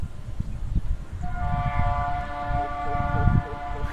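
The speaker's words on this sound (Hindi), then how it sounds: "टाइमिंग देखो, ट्रेन भी जा रही है।" A train passes nearby, a low rumble of wheels and cars under a sustained horn that sounds partway through and holds to the end, fairly loud.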